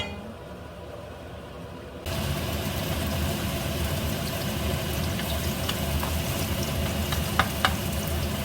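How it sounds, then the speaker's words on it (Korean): Minari pancake batter with chili peppers sizzles loudly in plenty of hot oil, starting suddenly and crackling steadily with occasional sharp pops, close by and without talk. "지글지글지글지글지글지글지글지글지글"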